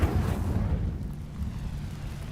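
Incendio fire spell cast in Hogwarts Legacy, a deep whooshing burst of flame that flares at once and then settles into a steady low roar with no talk over it.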